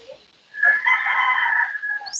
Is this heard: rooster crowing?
yes